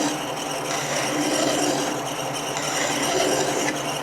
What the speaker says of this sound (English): want to chamfer that edge.